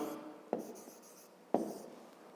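A pen writes on paper during a fifth-grade math lesson, making faint scratching strokes with two sharp taps as the pen touches down, quiet and close with no talk.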